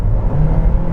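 A 2021 Nissan Kicks SR engine with CVT drones under acceleration, a loud, coarse, steady hum heard from inside the car with no talking.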